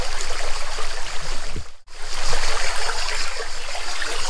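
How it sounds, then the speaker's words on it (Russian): River water rushes and trickles steadily over a rocky riverbed near Valencia, Spain, a close, continuous broadband flow with a brief dropout midway. "Интересно, вода течет."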